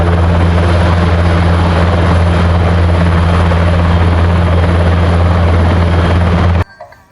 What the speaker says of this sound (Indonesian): Disebut juga helikopter Chinook.